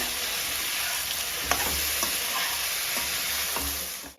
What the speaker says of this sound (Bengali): দিয়ে এটাকে আরেকবার ভালো করে এক মিনিট ভেজে নেবো